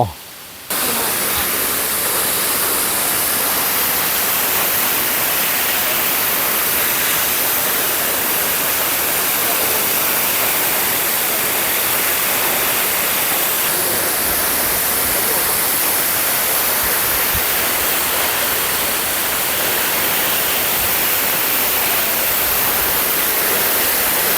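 Huai Luang waterfall roars as a loud, steady, broadband rush of falling water that fills the whole stretch without pause, with no voices heard above it.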